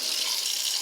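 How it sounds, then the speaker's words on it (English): An RV kitchen faucet sprayer runs water steadily, a constant close hiss of spray with no break and no talking. "I even got the sprayer here"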